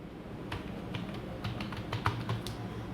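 Quick keystrokes on a computer keyboard during accounting data entry, with a run of soft, close clicks and a few firmer taps like the Enter key, over faint room noise and no talk.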